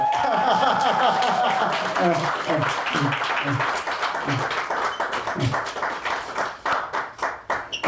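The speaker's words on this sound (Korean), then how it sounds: "박수 부탁드리겠습니다" Applause from an audience, dense clapping that thins into scattered claps toward the end, with voices murmuring underneath.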